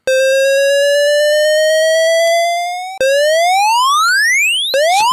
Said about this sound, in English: We can create a siren by going up and down.